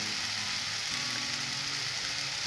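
Onion and tomato masala sizzles steadily in a pan as dry spice powders go in, a dense, even frying hiss close up with no voices.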